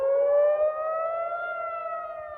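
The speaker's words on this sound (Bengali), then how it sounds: "তেল আভিভ, জেরুজালেম সহ ইসরায়েলের বড় শহরগুলোর অধিকাংশতেই সাইরেনের শব্দ শোনা গেছে।" An air raid siren wails in Israel during an Iranian missile attack, a single loud, sustained rising-and-falling tone heard alone with no voices.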